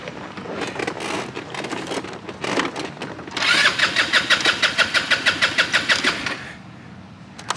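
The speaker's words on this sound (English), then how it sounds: "let's see if she'll start now with more fuel." A car engine cranks in uneven bursts after more fuel is added, then a rapid rhythmic chugging fires for about three seconds before dying back to a quiet hum, loud and close.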